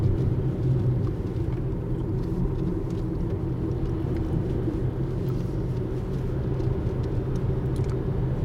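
Steady low rumble of a car being driven along a road near Lake Nojiri, heard from inside the cabin, with a constant engine and tyre drone and no talking.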